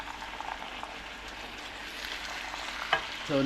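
Catfish in a caramelized sauce sizzles and bubbles in a pan as it is turned over, with a soft continuous fry and a sharp clink near the end.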